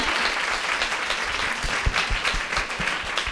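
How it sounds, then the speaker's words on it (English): An audience at a venture capital panel talk applauds a guest, a steady wash of many hands clapping at moderate volume, continuous for the whole stretch. "Ladies, a round of applause for Miss Amy Ray."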